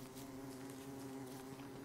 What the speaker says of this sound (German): Eine Biene.